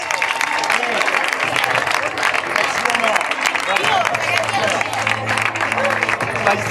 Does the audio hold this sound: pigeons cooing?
no